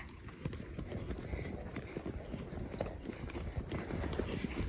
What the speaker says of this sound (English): Look at what a nice little trot Kyle's having